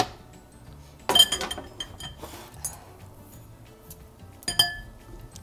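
A utensil stirs a tomato mixture in a bowl. Sharp clinks and scrapes against the dish come in two louder bursts, with faint clicks between them in a quiet kitchen.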